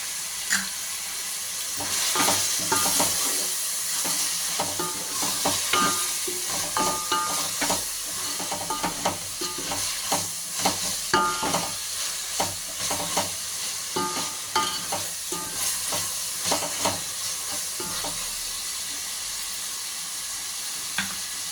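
Sorakaya dalcha, a bottle gourd and lentil curry, being stirred and fried in a pan, with a steady sizzle broken by repeated scraping strokes of the spoon over about twenty seconds, close and without speech.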